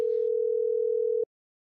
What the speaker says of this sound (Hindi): और घंटी तो जा रही है।